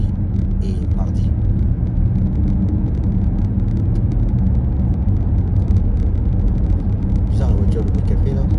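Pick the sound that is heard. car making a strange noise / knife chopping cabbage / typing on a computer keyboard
car making a strange noise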